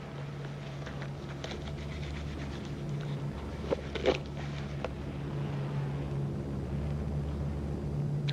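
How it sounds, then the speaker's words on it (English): Several military planes from a 1945 war film drone overhead as a continuous low engine hum, steady and fairly distant, with a few faint clicks and rustles nearby. "I see the planes, Mac."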